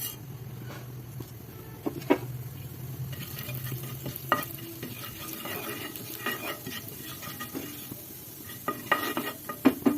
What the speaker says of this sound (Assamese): তেলটো অলপ গৰম হোৱাৰ পিছত ইয়াত অলপ জিৰা দি দিম।